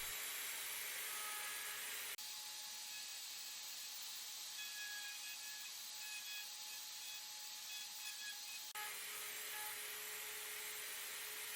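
A steady, faint machine whir runs through a 10-degree angled cut in solid wood for a children's chair, a continuous even drone with a slight change partway through.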